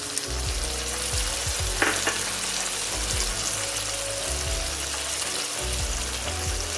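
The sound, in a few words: tomato with ginger, chilli and garlic paste frying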